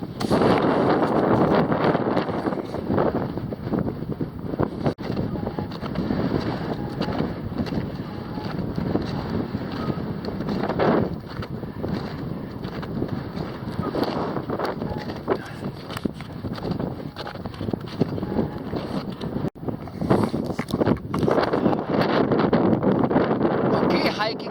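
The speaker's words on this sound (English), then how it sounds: "Very windy." Strong gusting headwind on the Pico de Orizaba glacier buffets the microphone in loud, rumbling surges and lulls, with a person talking intermittently beneath the roar.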